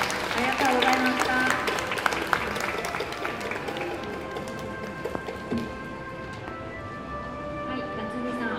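Audience applause at a public café recording session, a steady patter of clapping from a small crowd that gradually thins, with faint chatter underneath.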